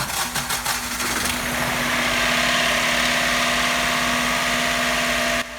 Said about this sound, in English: the engine's a little noisy, but that is to be expected after sitting many years